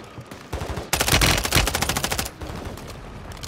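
Rapid gunfire in a shooter video game, a loud dense burst of repeated shots for about a second and a half, followed by quieter continued shooting, with no talking over it.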